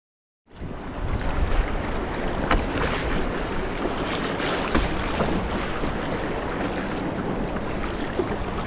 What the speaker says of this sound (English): These bouncing waves off the shore.